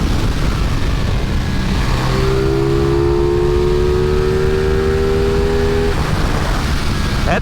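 A CF Moto 450SS motorcycle rides a twisty road with its engine droning loud and steady, a rising tone holding for a few seconds as the rider brakes and trails into a corner, under heavy wind rush.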